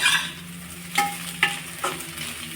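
Chapati noodles are stirred in a frying pan, with a low sizzle behind three or four distinct scraping clacks of the spatula, close up, with no speech.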